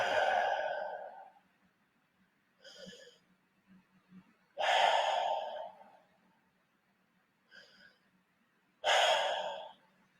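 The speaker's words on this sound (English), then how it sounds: "5 deep diaphragmatic breaths." Deep diaphragmatic breaths drawn into the belly and released, with three long, loud, airy exhales separated by quieter inhales, close and alone.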